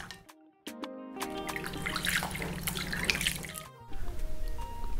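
Cold water runs from a kitchen tap into a sink while fish is cleaned, a steady splashing trickle with drips and a few clinks, close and moderately loud.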